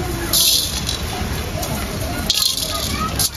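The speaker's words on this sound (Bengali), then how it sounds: "এখন মশলাগুলো ভেজে নেব।" Cumin, black pepper, cinnamon and dried chillies fry in hot oil in a pan, making a close, steady crackling sizzle with brief louder spits, while a voice talks over it.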